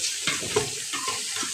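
Washed rice stirred and browned in a pan: soft continuous sizzling with a few light scraping strokes, close and moderately quiet.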